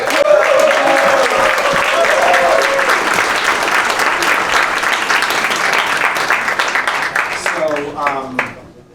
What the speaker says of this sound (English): I also would love a round of applause for Murphy's here at the Irish Park